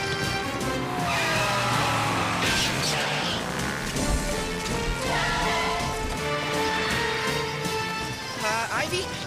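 A cartoon car drives on the wrong side of a street in England, its tires skidding and squealing amid a busy, continuous wash of sound, with voices talking over it.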